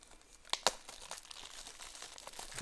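Plastic wrap being peeled off a boxed Chromecast 4th Gen with Google TV, crinkling and tearing close up, with two sharp crackles early and then continuous softer rustling.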